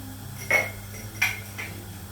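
Two sharp clinks sound close up as pumpkin and sunflower seeds go into an earthenware bowl in a home kitchen while granola is being made, with a fainter third tap after them.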